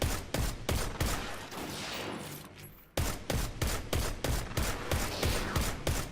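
Rapid bursts of gunfire against a boss in a first-person shooter, loud and close, with rhythmic repeated shots, a short pause midway, then another run of evenly spaced shots.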